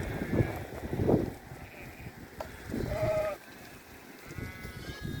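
Sheep bleat in a flock grazing on dry land, several wavering calls at moderate distance amid soft wind and faint background noise, with voices nearby.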